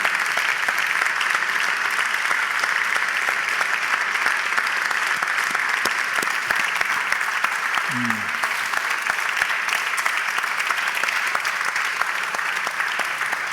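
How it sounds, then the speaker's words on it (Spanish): Loud, sustained applause from an audience at the Festival Eñe awards ceremony, a continuous wash of many hands clapping close by with a short voice heard briefly midway. "Un aplauso para que nos acompañen."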